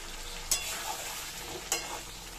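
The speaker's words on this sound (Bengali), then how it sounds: "দিয়ে এবার আমি এখানে আলুগুলো দিয়ে দিচ্ছি। দেখো এখানে আমি আলুগুলো দিয়ে দিচ্ছি।" Potatoes sizzle softly in a pan for vegetarian masala alur dum, with three sharp scraping clicks of a spatula stirring them against a faint steady hiss.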